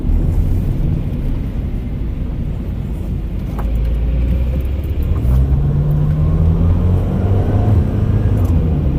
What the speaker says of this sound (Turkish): bu otomobil 2500 devirden sonra maalesef ki motor sesi içeri alıyor